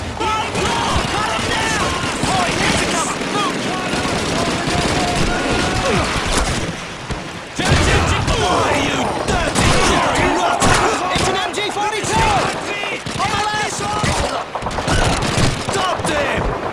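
Battle at a crossroads in Call of Duty 2 with rapid bursts of rifle and machine-gun fire, heavy booms and shouting voices, dense and loud nearly throughout with a brief lull midway.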